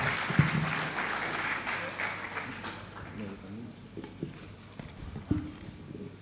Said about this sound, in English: A round of applause for Ms. Ngozi Edozien.